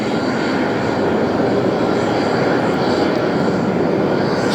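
An Airbus A350-1000 jet taking off at JFK, a loud, steady broadband engine roar that holds evenly throughout with no voices.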